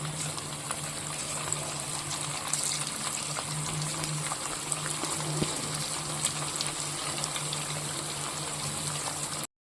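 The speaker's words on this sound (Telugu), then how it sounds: "నెక్స్ట్ మిగిలిన పీసెస్ని కూడా మనం ఫ్రై చేసుకుందాం" Chicken 65 pieces deep-fry in oil with a steady, even bubbling hiss that carries on unbroken, close and moderately loud.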